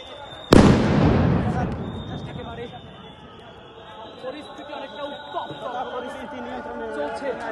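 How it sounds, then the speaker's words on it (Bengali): A police sound grenade goes off with a loud, sharp blast at a street protest. Its echo decays over a second into steady crowd noise and shouting from the protesters. "পুলিশ কিন্তু পাল্টা সাউন্ড গ্রেনেড নিক্ষেপ করে"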